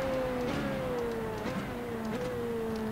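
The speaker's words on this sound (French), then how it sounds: "Essayer de vous laisser profiter un petit peu eh bien, du son de cette voiture." Formula Renault 3.5 single-seater race car engine in the iRacing simulator, a steady loud tone rising through the gears with quick shifts around half a second, one and a half and just over two seconds, no talk.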